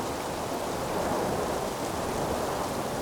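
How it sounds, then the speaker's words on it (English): Strong wind roars and rain pelts down in a dense, unbroken rush of noise, loud and close, with no voices, on the coast of the Isle of Skye, Scotland. "the wind condition here on the coast was much worse"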